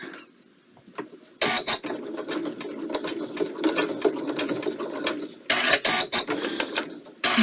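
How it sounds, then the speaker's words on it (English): A sewing machine stitches a coiled rope in rapid mechanical bursts, close and loud, starting and stopping with a short pause before running again. "I just want to catch one stitch, put it in reverse, and stitch it backwards to the center."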